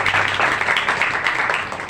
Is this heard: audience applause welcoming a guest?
yes